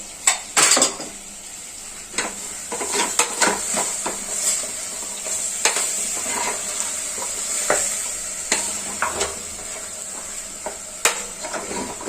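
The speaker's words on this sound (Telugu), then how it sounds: "సో ఈ పేస్ట్ వేసుకొని నీట్గా కలుపుకోవాలి." Spice paste of dry coconut and pepper gets stirred into paya, goat trotters, in a cooking pot. A steady hiss runs underneath while a spoon scrapes and clinks against the pot close by in irregular strokes.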